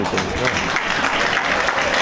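A stadium crowd at an Arezzo–Livorno football match applauds Livorno's Andrea Luci, a dense, steady wash of clapping and crowd noise filling the whole moment at even loudness.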